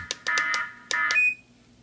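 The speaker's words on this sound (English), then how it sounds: "Okay, there it goes again." A 1byone motion sensor alarm sounds close and loud in a few rapid electronic beep bursts, then a short tone that trails off into quiet.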